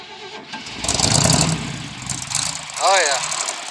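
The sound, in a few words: truck engine cold start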